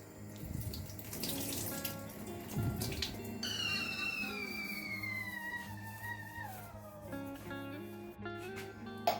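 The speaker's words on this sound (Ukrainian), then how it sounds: "Першу воду виливаю просто у раковину." Water poured from jars runs and splashes steadily into a sink, with a rising tonal ring as it drains, plus a few clinks near the end.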